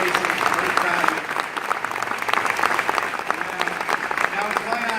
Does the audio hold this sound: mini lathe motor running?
no